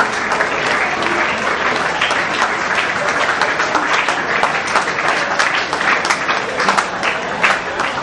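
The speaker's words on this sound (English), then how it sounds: "Please a round of applause to these" Sustained audience applause at a management institute event, dense and steady throughout with a few louder claps poking out of the wash of hands.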